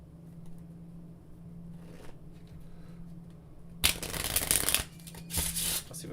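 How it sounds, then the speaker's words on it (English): Playing cards are bent back and riffled in a spectator shuffle, first a few quiet handling rustles, then two loud, fluttering bursts of cards cascading together near the end. "there's a spectator shuffle"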